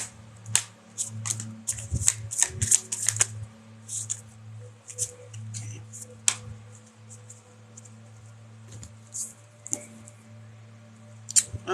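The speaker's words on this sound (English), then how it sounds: "Let's get your tarot cards." Tarot cards are shuffled close up during a live reading, giving repeated crisp riffles and flicks in irregular bursts over a low steady hum, with no talking.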